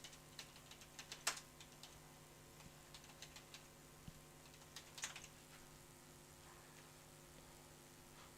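Soft keyboard typing while HTML code is written, faint scattered key clicks with a couple of sharper taps over a low steady hum, no talk.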